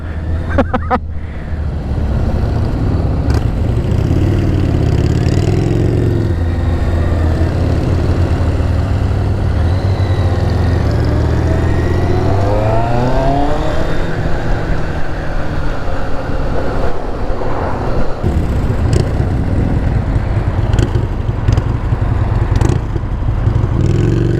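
Several motorcycles, including a Kawasaki ZX6R Ninja, ride into St Ives, Cornwall, with a loud, continuous engine roar close by that rises and falls as the riders rev and shift gears for the whole stretch.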